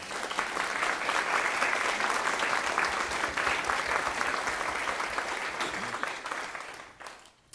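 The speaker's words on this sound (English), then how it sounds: "So please give them a round of applause, if you would." An audience applauds the camera operators at a concert, steady close clapping that holds for about seven seconds before tapering off at the end.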